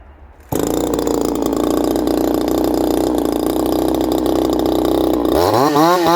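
A ported Bradley G395xp chainsaw with a muffler mod starts abruptly and runs at a loud, steady high-pitched drone, then revs up and down in rising, wavering pulses near the end, very close.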